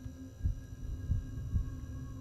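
A slow heartbeat from a backrooms horror video game: three soft, low thumps spaced about half a second apart over a steady dull hum, with no talking.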